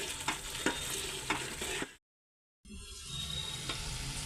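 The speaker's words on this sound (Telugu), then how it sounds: "పంచదార వేసాక ఇలాగ తిప్పుకుంటూ ఉండాలి" Carrot halwa with milk and sugar is stirred in a pan, giving soft scraping strokes over a quiet bubbling sizzle, with a brief gap of silence in the middle.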